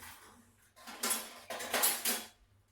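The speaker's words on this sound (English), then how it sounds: "I'm going to use an egg beater" An egg beater works through Irish soda bread batter in a bowl, producing a few brief clattering, scraping bursts close by.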